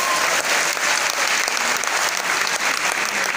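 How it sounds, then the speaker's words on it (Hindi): A crowd at a Hindi political speech breaks into loud, dense clapping that holds strong throughout, close and unbroken with no voices on top. "तो ठोको ताली।"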